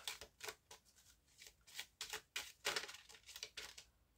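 A tarot deck being cut and handled for a card reading, soft rhythmic riffles and paper slaps repeating about twice a second, close and quiet, no talk.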